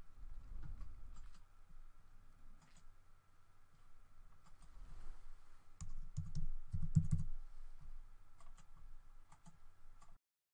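Typing a search query on a computer keyboard while filling in a web form, with scattered soft key clicks in irregular bursts over a low steady hum, fairly faint and close, no talking.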